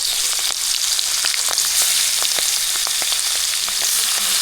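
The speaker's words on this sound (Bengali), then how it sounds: "ফার্স্টে কড়াইতে সাদা তেল গরম করে নিলাম, এবার তার মধ্যে চিংড়ি মাছগুলো দিয়ে ভেজে তুলে নেব।" Prawns fry in hot white oil in a wok for a Bengali curd-prawn dish, giving a steady, loud sizzle with frequent sharp pops and crackles spread evenly throughout, with no voices.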